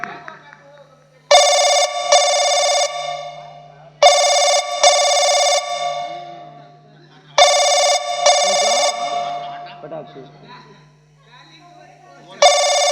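A telephone bell rings loudly and close in a Hindi folk-theatre comedy, three long bursts of trilling rings separated by short pauses, with a low hum and faint stage sounds between them.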